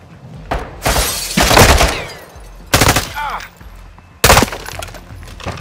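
Gunfire in Call of Duty Modern Warfare II: loud bursts of shots and shattering impacts come in three separate clusters with short gaps between them, under faint background ambience.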